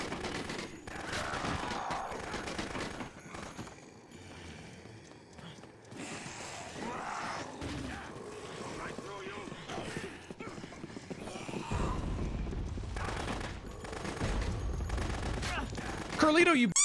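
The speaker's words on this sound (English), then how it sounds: "Carlito was running around with a submachine gun taking potshots at me" Submachine gun fire from a character in Dead Rising, with bursts of shots and scattered pops over game noise and zombie sounds, in uneven clusters at moderate level, while a person talks over parts of it.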